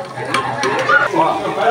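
Calabresa sausage, already cooked, fries in a pan with a steady, close sizzle broken by a few scraping stirs, while someone talks over it.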